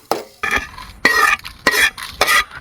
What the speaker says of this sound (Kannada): 1 ಸ್ಪೂನ್ ಮೆಂತೆ ನಾವು ತುಂಬ ಹಾಕಲಿಕ್ಕಿಲ್ಲ, 1 ಸ್ಪೂನ್ ಸಾಕಾಗ್ತದೆ.